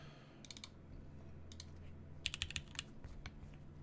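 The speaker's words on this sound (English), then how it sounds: "we're typing on GMK Modern Dolch Light today" Mechanical keyboard with lubed Gateron yellow switches and GMK Modern Dolch Light keycaps typed on in short bursts of crisp, close clacks, a few quick keystroke clusters over a quiet low hum.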